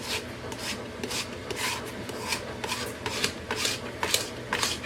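A tool scrapes a freshly sprayed Cricut cutting mat in repeated short, rasping strokes, about ten of them in a loose rhythm, close and fairly loud, with no one talking.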